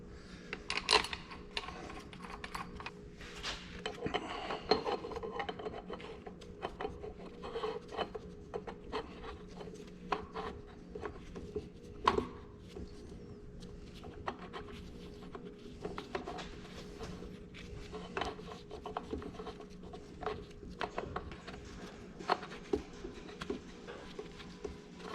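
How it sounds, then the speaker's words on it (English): Bolts are turned by hand into a front wheel assist axle assembly on an Oliver 1855 tractor under restoration, giving faint rubbing and scraping with small metallic ticks and clicks scattered through a quiet shop. "Put some bolts in. Just gonna finger tighten those for now."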